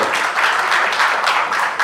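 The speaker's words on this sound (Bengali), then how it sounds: "এদের জন্য একটা করতালি" An audience at the National Freelancer Award 2019 breaks into dense, continuous applause, loud and close, with many hands clapping together throughout.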